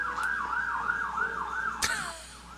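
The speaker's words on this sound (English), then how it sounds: "Wallingford loves their sirens." An emergency vehicle siren in Wallingford wails in a steady rising-and-falling pattern at moderate distance, cut by a brief sharp click before it fades.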